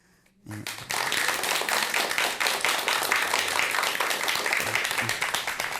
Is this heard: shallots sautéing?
no